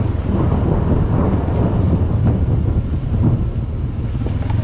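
Thunder rumbling after a lightning flash during a rainy off-road motorcycle ride at a trail adventure event, a loud continuous low roar blended with heavy wind buffeting across the microphone throughout.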